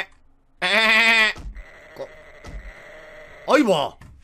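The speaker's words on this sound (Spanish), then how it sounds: "¡Oveja!" Sheep in the 7 Days to Die video game bleat twice, a loud sustained call followed by a shorter wavering one, with soft thuds and a faint steady tone between.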